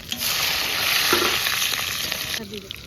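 Panch phoron, whole dried red chillies and bay leaves sizzle in hot oil, a loud continuous frying hiss up close that eases off near the end with a couple of light clinks.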